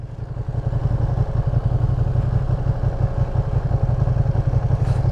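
A 2023 Ducati Panigale V2 sport bike ridden in New York City, its engine a steady, loud, close rumble with a pulsing low drone and no talking.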